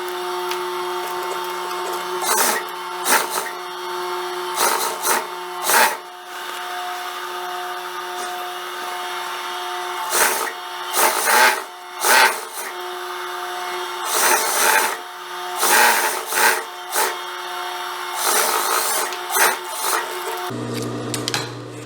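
A sewing machine stitches the side seam of a wide-leg jumpsuit, running in repeated short bursts with brief pauses, fairly close and alone, with no talking.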